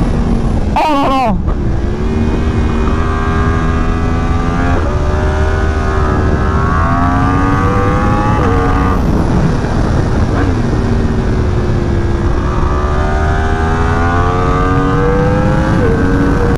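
A remapped 2023 Yamaha R1M motorcycle with its crossplane four-cylinder engine, roaring loud and close through repeated rising revs and gear changes, the pitch climbing and dropping in steady waves.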